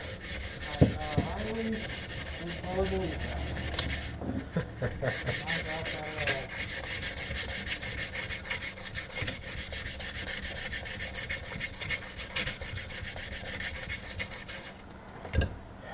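A towel scuffing a gun part, a continuous close rubbing and scraping with rapid back-and-forth strokes, steady throughout with a brief dip near the end.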